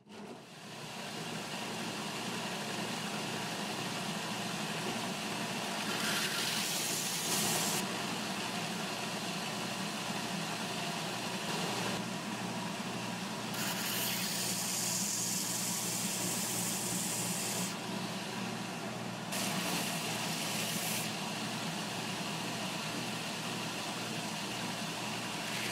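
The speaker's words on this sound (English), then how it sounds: "I'll bring the tapers down to the line and round the braces over on the belt sander." A belt sander rounds over tenor guitar braces with a constant, loud whirring drone, broken by several stretches of harsher grinding as the wood is pressed to the belt.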